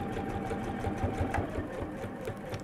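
A sewing machine stitching the lining of a purse made from fabric scraps, a steady fast mechanical whir with rapid needle ticking, close and continuous throughout.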